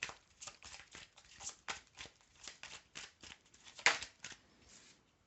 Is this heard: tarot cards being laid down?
yes